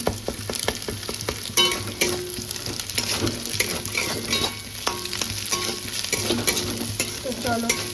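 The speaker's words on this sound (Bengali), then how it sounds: "এবার এখান থেকে কুচি কুচি করে, মানে কুচুরো জুড়ো করে নেবো ডিমটা" A fried egg is chopped into small bits in a hot pan, with a steady sizzle broken by sharp, repeated spatula taps and scrapes, close and fairly loud, and no talking.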